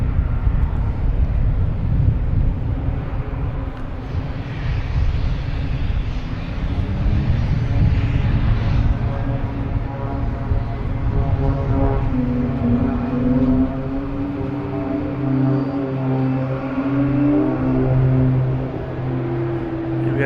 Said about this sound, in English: Next, taking off is Delta, an E-175,